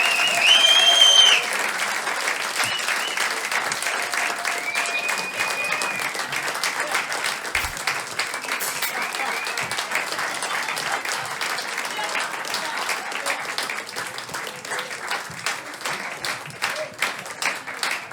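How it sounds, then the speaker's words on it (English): Dense, loud applause from a small audience at a living-room concert by a band, steady throughout with a few whistles at the start and a voice briefly speaking near the end. "that was fabulous clapping"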